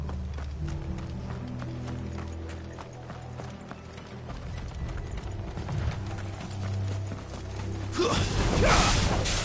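Horses' hooves clip-clop in a steady rhythmic patter in the Final Fantasy XVI video game, mixed with mechanical ratcheting tones and a droning background, ending in a louder rushing burst.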